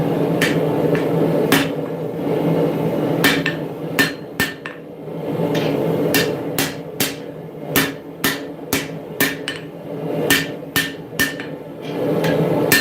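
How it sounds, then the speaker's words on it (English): A hammer taps the steel edge of a Bowie knife in a series of sharp metallic strikes at an irregular pace, loud and close over a steady background hum. "with some gentle tapping, you can upset that material back into the edge"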